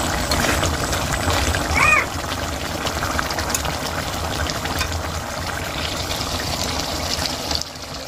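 Tap water runs steadily while coriander leaves are rinsed in a home kitchen, a continuous close splashing trickle over about eight seconds, with a brief faint squeak early on.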